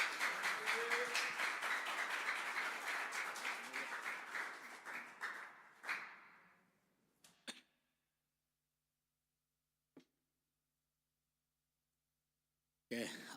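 A church congregation applauds at a Tuesday worship service, a dense steady clapping that fades out after about six seconds, followed by near silence broken by a few isolated taps.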